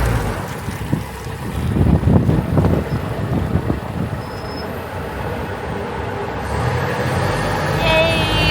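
Boat ride out to an island in Batangas province, with a steady engine rumble and wind buffeting the microphone, loud and continuous, with brief voices heard over the motor.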